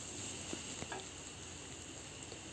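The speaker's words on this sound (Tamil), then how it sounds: "வெங்காயம் ஒரு 1 நிமிஷம் அளவுக்கு நல்லா வதக்கிடலாம்." Sliced onions sautéed in a pan for restaurant-style poori masala, a soft steady sizzle close but quiet, with a few light clicks of stirring.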